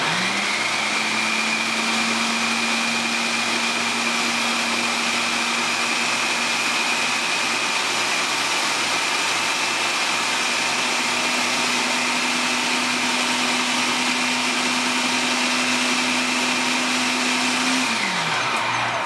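A food processor runs on low, a steady loud motor whine and hum holding constant pitch for nearly twenty seconds at close range, then winding down abruptly as it switches off.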